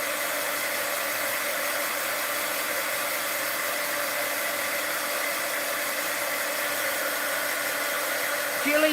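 A hair dryer held high above an art journal dries a layer of napkin, giving a continuous, even whooshing roar with a steady motor hum that runs unchanged for nearly nine seconds.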